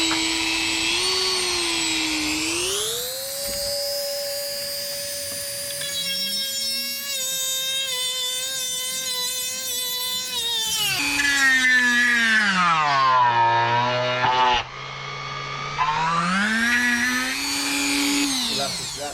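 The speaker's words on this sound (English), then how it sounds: "I'm gonna have to Dremel this hole right here" Dremel rotary tool enlarging a hole in the intake part of a cold air intake install on a G37, a loud steady high whine that shifts pitch as the bit loads and frees, running continuously throughout.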